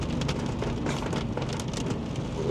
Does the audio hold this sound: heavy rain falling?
yes